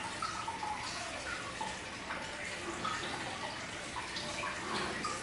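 Water poured onto a potted copper spoon plant, a steady close splashing and trickling that runs continuously without pause.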